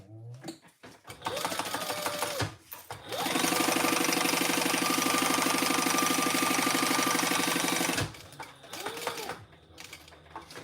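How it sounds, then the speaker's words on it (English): Sewing machine stitching fabric completely shut on a sewing project, starting with short bursts and then running steadily at high speed for several seconds before stopping, close and loud with a brief restart near the end. "I'm sewing this completely shut."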